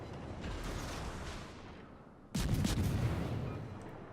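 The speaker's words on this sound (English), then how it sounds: "I shoot off my next salvo of torps" Naval combat in World of Warships with an Akizuki destroyer: a rumbling wash of gunfire fades, then a sudden loud burst of booming salvo fire erupts and rolls on before gradually easing.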